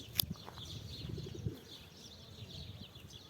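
A pigeon takes off in a brief burst of wing flapping, followed by quiet outdoor background with faint distant chirps.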